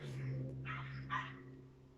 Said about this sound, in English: Apologies for the dog barking out there.